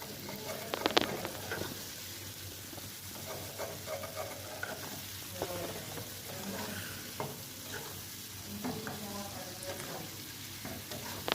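Prawns cooking as chingri do peyaza, a Bangladeshi onion-heavy curry, with soft steady sizzling and intermittent stirring clinks of a spoon against the pan, close and alone without talk.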